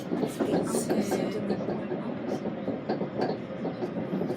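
Paris RER commuter train in motion, heard from inside the carriage as a steady, loud rumble with rattling and clacking throughout, with no clear pauses.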